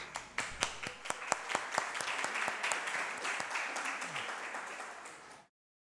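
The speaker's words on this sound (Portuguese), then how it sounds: "Uma salva de palmas para todas as mulheres aí" Applause from a municipal council session audience honoring women, starting as distinct, sharp claps that thicken into steady, fairly quiet clapping before cutting off abruptly.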